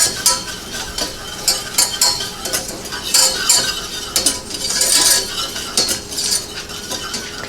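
A butter and flour roux cooks in a pot while being stirred, giving a soft continuous sizzle with busy scraping and light clinks of the utensil against the pan, close and without any voices.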